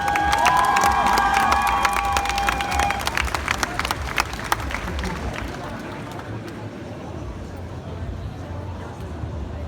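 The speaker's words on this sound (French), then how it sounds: "On l'applaudit bien fort s'il vous plaît." A festival crowd greets a stage character with loud cheering, shouts and clapping that start strong and slowly thin out, while a whistle-like tone sounds over the start.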